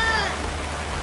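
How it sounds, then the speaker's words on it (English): Heavy tropical rain pouring down in Fiji, a dense, loud, continuous hiss of water striking surfaces, with no break across the short stretch. "this is just a notification to say it's pouring, so even paradise rains."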